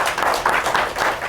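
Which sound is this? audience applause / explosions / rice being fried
audience applause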